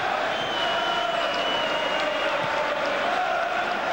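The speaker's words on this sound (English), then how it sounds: "Crowd are enjoying the ebb and flow of this game." A large football stadium crowd at Liverpool v Newcastle makes a constant, distant roar and murmur, with a commentator speaking over it.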